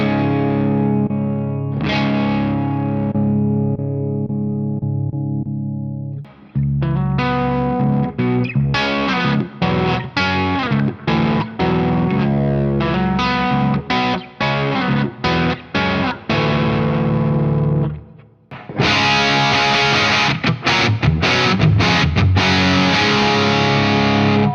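A Soldano Astro-20 guitar amp on its blue channel plays a hard rock gain tone: a loud, distorted electric guitar with sustained chords, choppy palm-muted riffs and short stops, alone with no talk.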